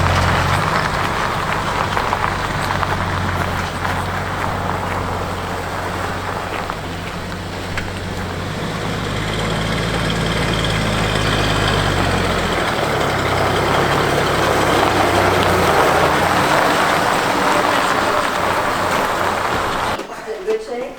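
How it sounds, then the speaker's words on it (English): A Jeep Scrambler's engine runs steadily as it pulls a 1955 Corvette out of storage, a loud rumbling idle with a low drone that rises and falls in load, wind noise and some voices over it before it cuts off. "Nothing better than a Scrambler to pull out a 55 Corvette"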